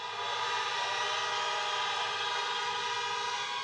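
Many car horns blare together in one sustained, dense chorus at an outdoor drive-in political rally in Philadelphia, Pennsylvania, loud and steady for the whole stretch with no talking.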